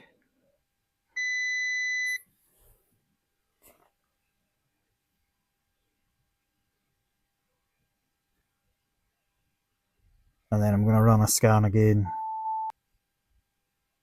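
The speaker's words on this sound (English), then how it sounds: "The beeping in the background is it's saying stuff about the headlights" A 2023 Audi A4's warning system sounds a short electronic tone once about the headlights, then after a long quiet stretch someone speaks briefly and a single short beep follows.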